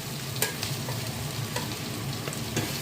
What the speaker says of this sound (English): So I'm mixing this, frying it until everything is ready here.